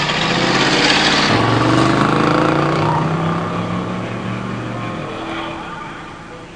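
A 1968 Torino with a 289 and automatic and a 1987 Grand National launch down a drag strip, engines roaring loud and close, rising through gears as the sound slowly fades away.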